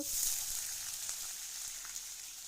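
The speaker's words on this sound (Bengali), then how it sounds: "এখন আমি আলু আর পেঁয়াজটা এর মধ্যে যথারীতি দিয়ে দেব" Potatoes and onions sizzle in hot oil with fried spice tempering for an egg and potato curry, a steady bright frying hiss throughout with a few faint clicks and no talking.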